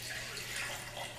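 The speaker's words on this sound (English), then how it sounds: "I'm going to take it across to the blender and pour about half into the blender" Collected water is poured from a baby food maker bowl into a blender, a steady close splashing and trickling stream over a low background hum.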